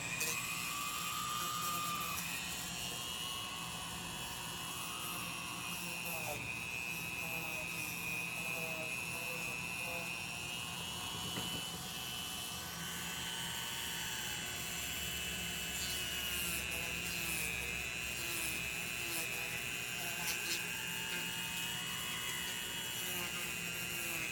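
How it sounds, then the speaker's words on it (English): A Dremel rotary tool whines continuously while trimming and cleaning up a foam Ironman helmet, a high steady buzz close by with slight shifts in pitch as it bears on the foam, no talk. "Just to clean this up, I'm going to go through with the Dremel"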